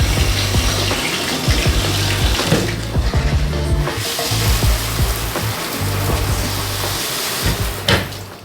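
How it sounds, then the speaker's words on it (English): Water gushes from a Moen Posi-Temp faucet just after its cartridge is replaced, a loud continuous rushing flow with a low pump-like hum, a few sputters and spits, and no talking. "Turn your water back on"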